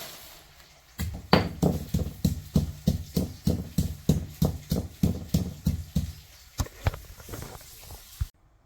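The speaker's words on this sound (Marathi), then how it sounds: "मी ना लसूण, थोडासाच खोबऱ्याचा तुकडा, आलं आणि कोथिंबीर खलबत्त्यामध्ये वाटून घेत आहे" Steady rhythmic pounding of a pestle in a mortar crushing garlic, coconut, ginger and coriander, about a dozen and a half dull thuds in even succession, close by, with a short pause near the end.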